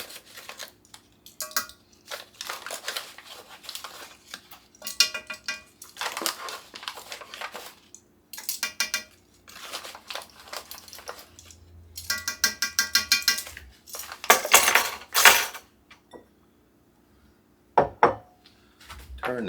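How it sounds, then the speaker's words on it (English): Flour being stirred into a beef mixture in a pan for a hash brown cottage pie, heard as bursts of close scraping and crunchy utensil sounds with short pauses, no talking. "Now we're going to add 4 tablespoons of flour to this beef mixture."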